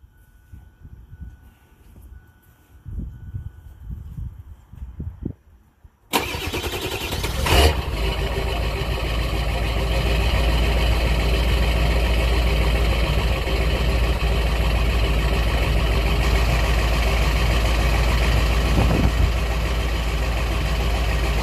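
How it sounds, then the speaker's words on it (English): A Ford truck engine starts after a quiet stretch and settles into a steady, loud idle that drones on without a break. "Over top of the engine noise, tell her to pump it up."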